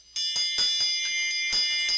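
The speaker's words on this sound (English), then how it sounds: "that's a storm bell" A storm bell rings in a quick series of about seven bright, metallic strikes, each with a short ringing tail, close and clear with no talk.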